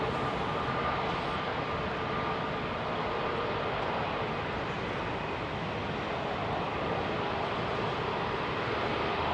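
An airliner departing London Heathrow at sunset, a broad, steady jet roar that holds at constant loudness throughout, heard from a distance with no voices over it.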